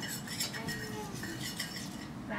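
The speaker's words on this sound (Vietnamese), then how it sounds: "Trước khi chiên thì Cindy phải khuấy một lần nữa cho nó đều." Toy cooking utensils stir pretend food in a small toy pan, giving light, quick clinks and scraping taps at close range over a soft background hiss.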